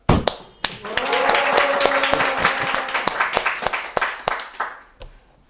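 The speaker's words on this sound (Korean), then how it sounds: "박수 한번 칠까요?" Hand clapping from a small group in a room, sharp close claps that build into a brief burst of applause and then taper to a few scattered final claps, with faint voices underneath.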